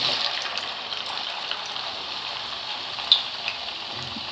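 Cut potatoes for French fries frying in hot oil in a pan, a loud, dense, continuous sizzle held steady at close range, with one brief clink near the end and no talking.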